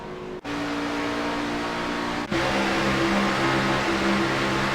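Race car engine in the iRacing video game at Daytona, a loud steady drone held at high revs with two brief dropouts as gears shift, then a slightly higher pitched sustained roar, with no talk over it.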